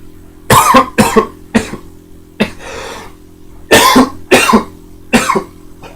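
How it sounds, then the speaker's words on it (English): A run of harsh coughs comes close to the mic, several sharp bursts in quick pairs with brief pauses between them. "bit of a cough, you know"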